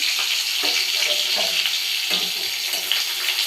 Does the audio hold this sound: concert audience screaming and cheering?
no